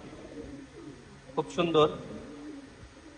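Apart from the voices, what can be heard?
female pigeon cooing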